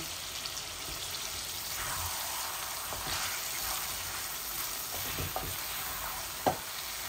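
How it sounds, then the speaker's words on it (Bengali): Fish spices fry in a pan with a soft, steady sizzle and occasional stirring scrapes, quiet and continuous. "এই আমার মাছের মশলাগুলা ভাজা ভাজা হোক"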